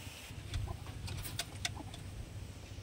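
Pigeons of Almiraj dar, Napta, Moinajak and Najra breeds in a small loft, with faint chirps and soft rustling and pattering over a steady low rumble, no voices.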